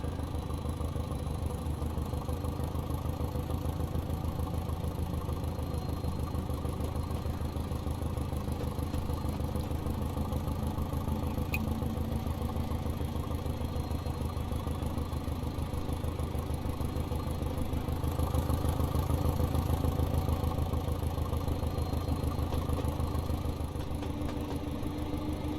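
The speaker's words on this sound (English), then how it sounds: "Really hear the whine of the turbocharger there." Class 205 diesel unit in Train Simulator Classic running steadily from outside, a continuous low engine drone with a thin high turbocharger whine on top, holding level and swelling slightly near the end.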